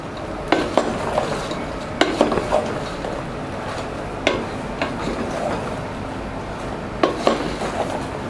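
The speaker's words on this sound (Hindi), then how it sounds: "अब हमने जो चिकन फ्राई किया था उसको ऐड करेंगे। इसको अच्छे से इसके साथ टॉस करेंगे।" Fried chicken tossed in a pan for a restaurant-style Chinese chicken dish: repeated metal utensil clinks and scrapes against the pan come in irregular bursts over a faint, steady sizzle, close and fairly loud.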